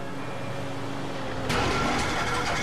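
A boat engine in Grand Theft Auto V cranks with a steady mechanical whir, then catches in a sudden louder, rougher burst that sputters on unevenly.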